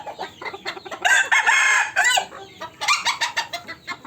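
Silkie chickens cluck and squawk busily nearby, with one drawn-out crowing call rising above the chatter.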